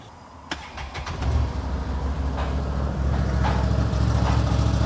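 A 2023 Can-Am Commander side-by-side engine cranks with a sharp click, catches and settles into a steady, close idle that holds evenly.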